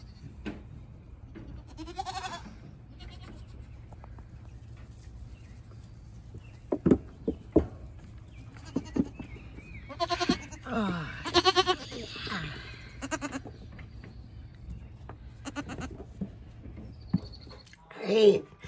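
Goats bleat at a goat yoga session, scattered short cries near and far over a quiet background with light rustling and occasional soft thumps, a louder bleat near the end.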